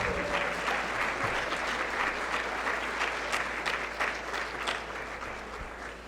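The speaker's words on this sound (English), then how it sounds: "Please, one more round of applause for Milton Hunt." Sustained audience applause at a summit honouring Milton Hunt, a dense, steady wash of many clapping hands that fades slightly toward the end.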